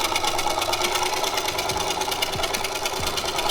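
A sewing machine runs continuously along a baby blanket seam, producing a steady, close, rhythmic whir and rapid needle clatter with a few low thumps underneath.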